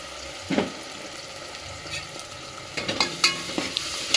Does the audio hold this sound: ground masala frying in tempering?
yes